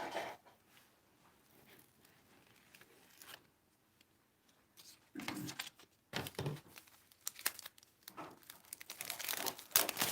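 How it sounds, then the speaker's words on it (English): Tape liner peeled off for a free-standing tunnel card, making crinkly, papery tearing that grows louder and busier toward the end after a quieter start, close up and with no voices. "I'm going to pull off my tape liner."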